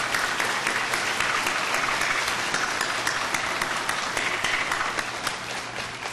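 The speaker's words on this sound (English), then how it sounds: "I want to give him another round of applause." A large crowd applauds at a college commencement ceremony, with dense, sustained clapping that stays loud and even and eases slightly near the end.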